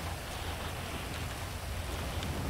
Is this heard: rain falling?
yes